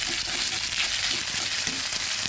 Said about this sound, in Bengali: আর আদাটা ভেজে দিচ্ছি